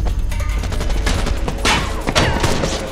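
Machine gun suppression fire in a helicopter chase action scene, a loud, dense fusillade of rapid bursts with booms and crashing impacts running continuously.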